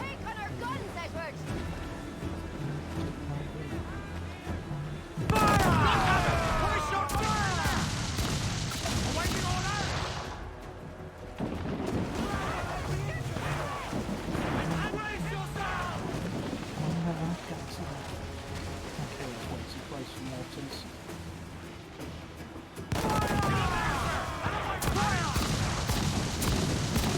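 Naval cannon broadside in Assassin's Creed IV: Black Flag, heavy booming volleys at sea with wind and water noise, loud bursts at several points across the stretch, with a voice talking over the battle.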